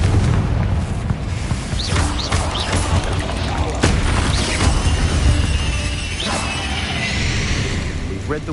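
Confringo fire spell cast in the Hogwarts Legacy video game during a fight with spiders, a loud booming blast with whooshing bursts and crashes spread over a dense, continuous game soundscape.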